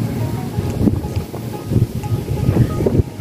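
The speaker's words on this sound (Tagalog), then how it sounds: "Napaka-presko ng hangin dito." Steady wind rushing at a seaside viewpoint in Legazpi, with low buffeting gusts against the microphone and a constant roar for several seconds, no one speaking.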